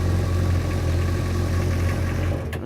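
A personal watercraft engine idles steadily at close range with a low, even rumble, then winds down near the end.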